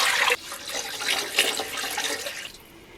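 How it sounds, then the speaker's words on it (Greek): Water from a tap runs and splashes into a pot holding a beef tongue, a steady close gush of pouring liquid that shifts in tone partway through, with no talking. "Θα ξαναβάλουμε τη γλώσσα στην κατσαρόλα και θα τη σκεπάσουμε με νερό."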